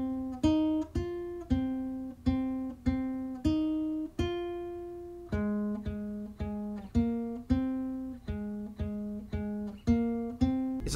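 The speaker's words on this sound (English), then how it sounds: "So here's one part that I played with my guitar." Nylon-string guitar phrase recorded for a sad lo-fi beat, clear plucked notes and soft chords in a steady, unhurried rhythm, played alone and fairly quiet.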